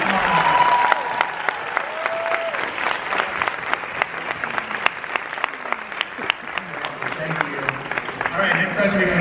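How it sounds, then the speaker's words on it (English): An audience bursts into sustained applause from the start, a dense wash of clapping with sharp individual claps standing out, holding steady throughout with no speech on top. "Round of applause"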